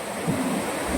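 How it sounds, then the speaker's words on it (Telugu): Water rushes from a single open gate of the Somasila dam on the Penna river as a continuous broad roar, loud and steady with some wind buffeting, no voices. "ఓన్లీ ఒకే ఒక్క గేట్ నుంచి వాటర్ ఫ్లో అవుతుంది"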